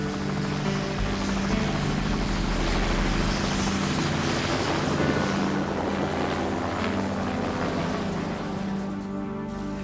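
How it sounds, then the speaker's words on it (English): A helicopter hovers and churns steadily overhead at a remote bush site after a bear mauling, its rotor drone loud and continuous with wind buffeting the microphone throughout, and no voices. "I'm requesting helicopter"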